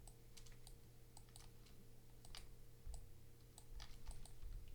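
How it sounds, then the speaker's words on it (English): Rapid typing on a computer keyboard, a steady run of light, close clicks and taps over a low constant hum, with no voices. "Two on the keyboard."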